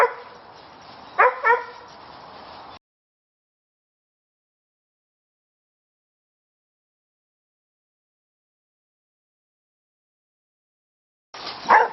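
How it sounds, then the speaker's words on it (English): A dog barks up a tree at a squirrel outdoors at a dog daycare, a short burst of several sharp barks near the start, then long silence before another brief noise at the end. "So that's Miko barking up that tree."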